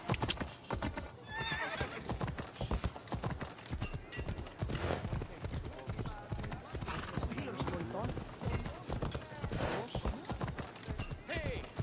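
Rapid hoofbeats of a galloping horse in a video game clatter steadily throughout, with a horse whinnying early on and voices talking over the rhythm.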